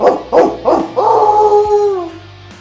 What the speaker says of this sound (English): From the end of the alley, you can hear your dogs barking a storm.